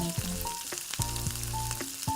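Sliced yam chips fry in hot oil, giving a steady bubbling sizzle under a louder tonal melody with short percussive hits.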